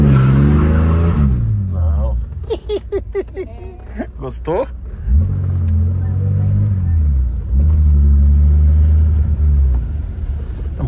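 A 1987 Chevrolet Opala Diplomata accelerates hard with deep rising engine rumble through several gear pulls, loud inside the car while occupants talk and laugh over it midway.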